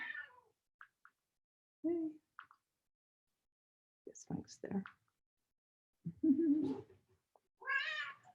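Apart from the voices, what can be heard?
cat meowing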